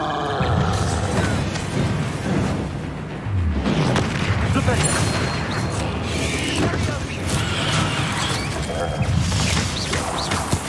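A Confringo explosive spell blasts in Hogwarts Legacy, a heavy booming crash amid a dense, continuous roar of battle noise and rumbling debris.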